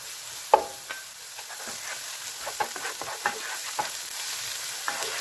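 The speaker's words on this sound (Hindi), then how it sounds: "अब मैं इसमें अदरक और लहसुन डाल रही हूँ।" Steady sizzling of ginger and garlic frying in a pan with browned onion, scattered clicks and scrapes of stirring, close and moderately loud, no voices.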